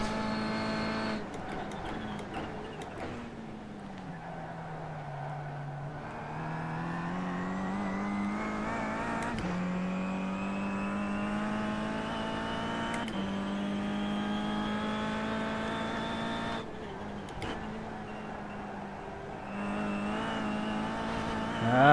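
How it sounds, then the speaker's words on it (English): A Kia Optima PWC GTS racing car engine in the iRacing sim at Summit Point drones at high revs, pitch rising and dipping as the RPM spikes, with brief tire squeal from wheelspin. "You can hear the RPM spike. That's wheel spin."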